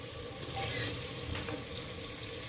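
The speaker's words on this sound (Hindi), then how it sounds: "मसाला हमारा भुन चुका है" Masala spices fry in a clay pot, a steady close sizzle with soft stirring scrapes, no voices.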